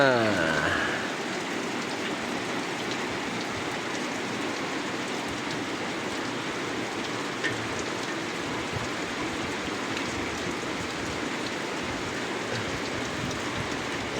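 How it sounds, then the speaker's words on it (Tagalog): Steady rain falls continuously on a fishpond, a dense hiss of drops on surfaces with no break throughout. "Umuulan na."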